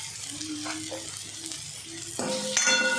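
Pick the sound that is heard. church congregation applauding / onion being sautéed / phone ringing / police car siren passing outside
onion being sautéed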